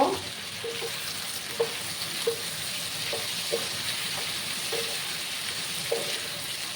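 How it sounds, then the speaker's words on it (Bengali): Onion and potato frying with a steady soft sizzle, punctuated by several light clicks of a spatula stirring the pan, no voices. "একসাথে ভালো করে পেঁয়াজ আলু ভাজা ভাজা করে নেব আমি"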